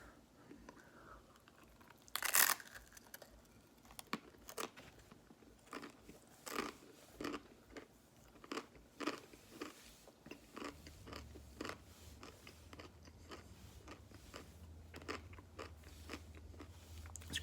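Someone eating crunchy dry ramen noodles topped with peanut butter, close up: a sharp bite snap followed by steady irregular crunching and chewing, fairly quiet, with a low hum entering later and no talking.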